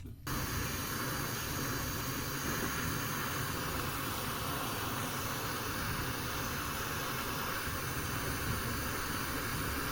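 Propane torch roaring steadily up close while heating a stuck bolt on a 2013 Audi, a dense continuous hiss and rumble holding level from start to end with no pauses.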